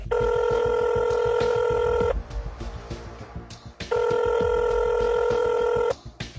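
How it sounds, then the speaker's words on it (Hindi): An outgoing phone call rings out with two long, loud ringback tones separated by a short pause, steady and electronic. "अब ज़रा डॉक्टर कमर हाशमी को भी फ़ोन करते हैं"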